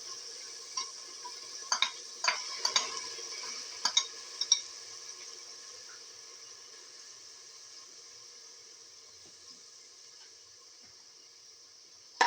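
Onion puree sizzles steadily in a hot pan while a utensil stirs it, with several sharp clinks and scrapes against the metal early on, then an even frying hiss that slowly fades.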